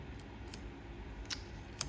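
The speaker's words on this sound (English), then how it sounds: "I'm going to be using these collapsible scissors that I have on my desk" Small collapsible scissors snip a few times at a desk, with brief crisp cuts at irregular intervals over a low steady background hum.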